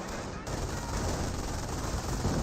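A .30 cal machine gun in Company of Heroes fires a sustained, loud automatic burst, a rapid stream of shots that thickens after a short opening.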